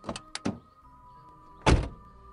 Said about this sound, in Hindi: आगे खड़ी जी वैगन का दरवाजा खुलता है।